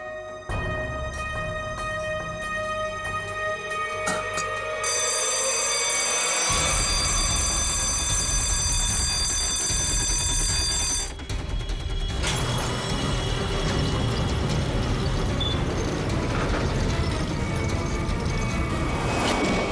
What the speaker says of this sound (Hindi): सर अलार्म की आवाज आई